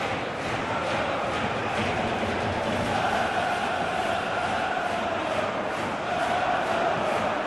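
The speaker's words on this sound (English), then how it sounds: "the crowd clearly like what they just saw" Football stadium crowd in PES 2020 during a Champions League match between Sturm Graz and Fenerbahçe, a steady dense roar of many voices swelling slightly, continuous and fairly loud throughout.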